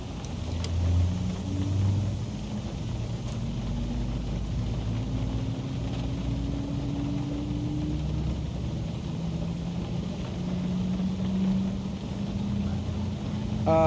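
Jet engine number one of a Boeing 737-300 Classic spooling up in the X-Plane 12 flight simulator, a steady low rumble with a slowly rising whine that builds gradually and continues without speech.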